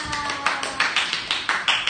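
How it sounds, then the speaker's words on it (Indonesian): A class of young pupils claps in a quick, even rhythm of about nine sharp claps, fairly close and clear, as applause for a classmate during a lesson on basic shapes. "Beri tepukan kepada Lala."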